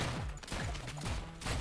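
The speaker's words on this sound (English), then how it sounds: "That was an interesting explode effect." An explosion effect in the video game ROUNDS comes through as a quick flurry of crackling, popping bursts in rapid succession, fairly quiet in the game mix.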